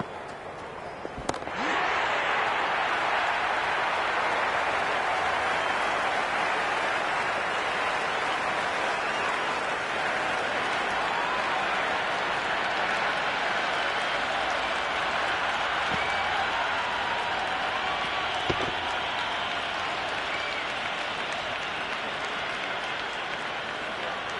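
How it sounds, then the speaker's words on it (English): A large cricket stadium crowd at a T20 World Cup match keeps up a loud, dense, continuous roar of cheering and buzzing noise from the stands, sustained for the whole stretch. "There's a buzz, a real buzz coming from the stands."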